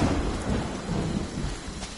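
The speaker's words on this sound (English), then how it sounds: "I'm gonna scare the shit out of somebody with that thunder." Deep rolling thunder with rain in the Friday the 13th video game, a loud sustained rumble that swells and ebbs over steady rainfall, with no voices.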